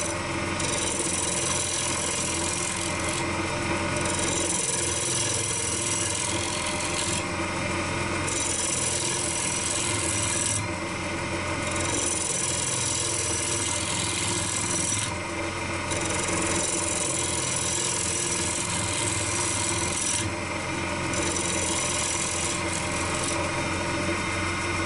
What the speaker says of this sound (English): I'm using the Ellsworth bowl gouge again, spindle gouge.